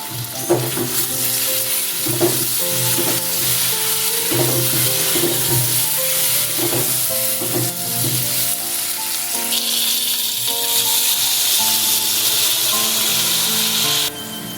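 Potatoes cooked with spices and a little water in a pan for a yogurt potato curry make a close, steady sizzle with rhythmic scraping stir strokes, ending in a brief clatter, and no one speaks.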